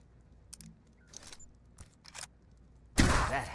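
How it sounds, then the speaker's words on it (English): Gunfire in Mutant Year Zero, a character firing on an enemy at very hard difficulty: a few faint clicks and short bursts, then one loud, noisy shot near the end. "Move him over there and shoot."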